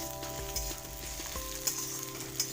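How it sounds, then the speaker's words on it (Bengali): Potatoes fry in oil in a pan, giving a steady, low-level sizzle with a few soft clinks and scrapes on top. No one speaks. "আলুগুলো আমি একটু লালচে লালচে করে ভেজে নেব।"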